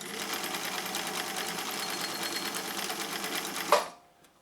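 A sewing machine runs a straight stitch in one steady, continuous buzz for about four seconds, then stops abruptly, leaving near silence.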